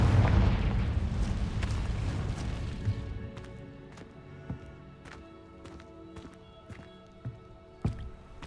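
A heavy blast from the Confringo fire spell in Hogwarts Legacy booms at the start and fades into a rumbling tail, followed by scattered light clicks and impacts.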